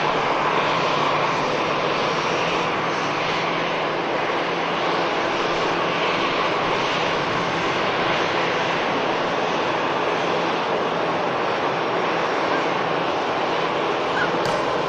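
Steady roar of EasyJet airliner engines at Manchester Airport, a broad continuous rumble holding at an even level throughout, close and loud with no talk over it.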